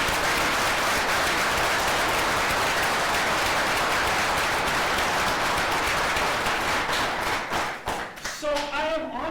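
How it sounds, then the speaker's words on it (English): Audience applause at a City Hall ceremony, a dense steady wash of clapping that carries on for about eight seconds before thinning out, with a voice starting to speak as it fades. "Richard, you deserve a round of applause for the great work"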